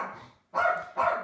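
A pet dog barks indoors, three loud, close barks in quick succession with no voices over them.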